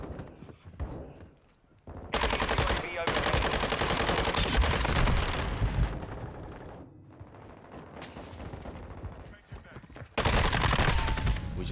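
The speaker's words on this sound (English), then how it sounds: "So far this weapon has been one of my favorite SMGs, but I mean, you gotta admit, when you shoot it, it sounds like shit." SMG gunfire in Call of Duty Modern Warfare II multiplayer, with several long rapid-fire bursts, loud and close, separated by brief pauses and scattered single shots.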